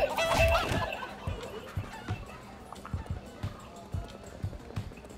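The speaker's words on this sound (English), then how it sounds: "Poultry, my precious poultry." Chickens cluck in Minecraft Story Mode, a loud burst at the start and then a run of short, evenly spaced clucks and steps.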